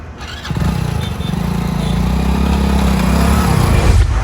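A motorcycle engine starts and settles into a steady running rumble that builds slightly as it pulls away, close and loud, with no talking.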